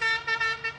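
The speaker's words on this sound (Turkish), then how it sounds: "Bir ara şey meşhurdu, Godfather kornası." A loud musical car horn plays the Godfather tune as a series of sustained tones with short gaps between them, heard close and with no talk.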